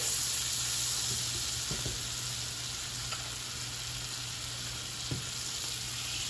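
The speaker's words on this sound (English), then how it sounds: "to this skillet, we're gonna go in and saute our shrimp real gold and melt a little bit of butter" Shrimp sauté in melted butter in a skillet with a soft, steady sizzle and hiss, close but quiet, broken by a few light clinks and taps of stirring.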